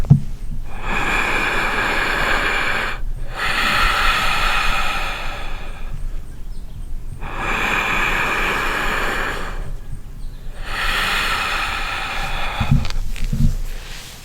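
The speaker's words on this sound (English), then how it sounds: "constrict your throat in that way while you're breathing in and out through the nose" Deep, audible breaths drawn in and out through the nose with a constricted throat during meditation, recorded up close: a slow, steady cycle of long airy rushes, each roughly three seconds, separated by short quiet pauses, with no talking.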